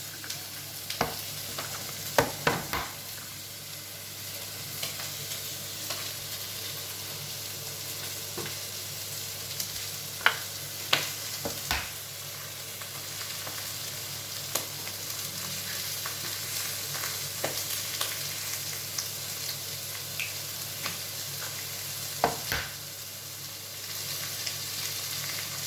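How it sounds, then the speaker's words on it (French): Three egg yolks whisked in a saucepan for a hollandaise sauce, a steady close-up scraping with irregular sharp clicks of the whisk against the pan, no voices. "Donc on va mettre dans notre casserole 3 jaunes d'œufs."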